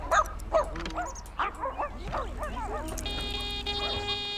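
A dog in The Sims Pet Stories video game gives a run of short yips and barks, then game music takes over. Someone talks briefly over the sounds.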